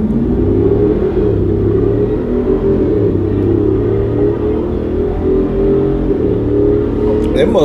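A Hellcat-powered Jeep Wrangler engine rumbles and revs loudly from inside the vehicle as it accelerates, a deep steady roar with rising and falling pitch under people talking.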